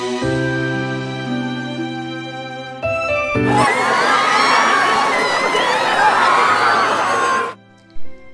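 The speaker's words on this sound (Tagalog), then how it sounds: "wala akong ibang narinig kundi ang mga hiyawan, sigawan at pagpanik ng mga tao" A crowd erupts into loud panicked shouting and screaming, a dense frantic roar that lasts several seconds and then cuts off abruptly, preceded by quieter tonal sound.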